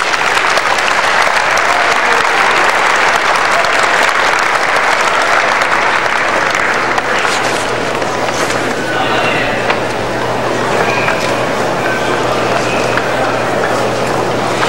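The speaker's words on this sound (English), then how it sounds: "FFA members, please give him a round of applause as he gets his token of appreciation." Sustained audience applause fills a large hall at an Iowa FFA state leadership conference, steady and dense throughout, with the crowd's clapping continuing as a thick wash.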